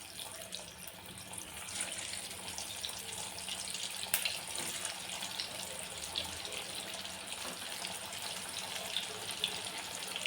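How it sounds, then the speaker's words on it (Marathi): Kothimbir vadi, coriander fritters, sizzle in hot oil over a slow to medium flame, giving a steady, even crackling hiss for the whole stretch with no talking. "आता आपण ह्यामध्ये वड्या तळून घेऊ"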